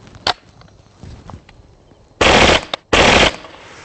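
Bursts of gunfire from a Vektor .45 ACP firearm shooting at a stainless steel keg on a range: a sharp single shot, then two loud sustained rapid-fire volleys, no talk.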